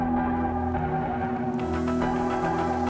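A music track plays with RC20-style distortion and noise on the master, giving a steady low, droning mix; a hiss layer brightens the top end about halfway through.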